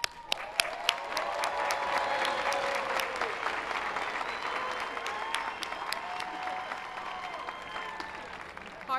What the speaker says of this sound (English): we can give you a round of applause for all you've done